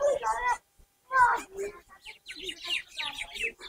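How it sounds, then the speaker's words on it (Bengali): Mynas and parakeets call near the Sonarang twin temple in Munshiganj, a run of quick, bright chirps and tweets that comes after a few brief voices. "এখানে কিন্তু প্রচুর শালিক পাখি, টিয়া পাখি থাকে"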